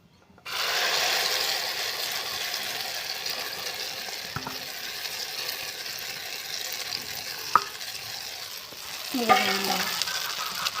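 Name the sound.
beaten egg frying in oil in a wok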